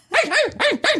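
Blue, a pet dog, barks three times in quick succession, sharp and loud at close range, each bark a short rising-falling yelp with no voices heard.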